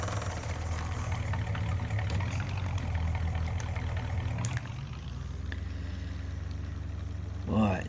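Pickup truck engine in Farming Simulator 19 idling and driving with a steady low rumble, a constant near drone that eases down partway through, with a brief swell near the end.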